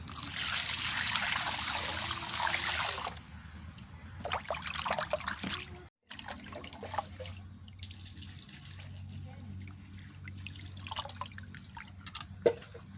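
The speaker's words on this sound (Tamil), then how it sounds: "இப்போ வந்து நல்லா அலசி எடுத்துக்கலாம்" Water runs from a tap, then sloshes and splashes nearby as prawns are rinsed and swished around in a container, with occasional drips.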